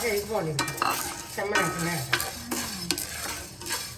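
Tamarind fries over a low flame in a pan while a spoon stirs and scrapes it, with soft clinks against the metal and a faint sizzle, close by.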